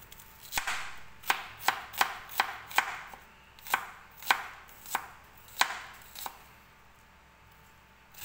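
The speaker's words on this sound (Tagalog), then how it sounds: "Atong i-chop." Onions being chopped with a knife on a cutting board: a dozen distinct, evenly spaced thuds, close and crisp, then a quieter pause, with no speech.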